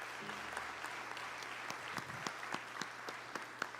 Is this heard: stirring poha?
no